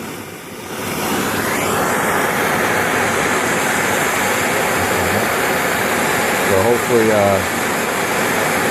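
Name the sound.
propane torch heating a fan part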